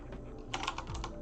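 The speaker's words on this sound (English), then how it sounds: "So just go on Google and type" Quick bursts of key clicks on a computer keyboard as someone types a search into Google, uneven in rhythm and close by, with no talking over them.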